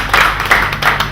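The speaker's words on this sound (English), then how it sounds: "Round of applause for the ladies again." Audience applause at a charity handover ceremony: a crowd claps in a steady, moderately loud patter that swells in a few bursts over about a second.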